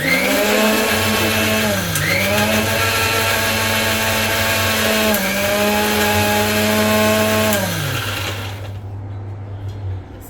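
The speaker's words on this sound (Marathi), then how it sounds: "आता मी मसाले मिक्सरमधून वाटून घेते." A mixer grinder grinding spices whirs loudly with a steady motor whine that dips in pitch twice, then cuts off near the end.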